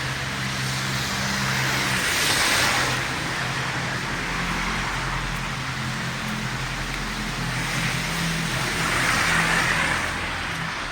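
Cars pass on a snowy road, with a steady broad rush of traffic that swells and fades as vehicles go by, plus a low engine hum underneath, and no talking.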